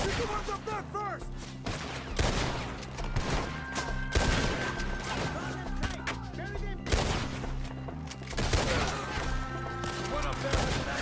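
Gunfire in the western video game Red Dead Redemption 2, a shootout of repeated loud rifle and pistol shots in irregular bursts, with shouting voices and a music score underneath.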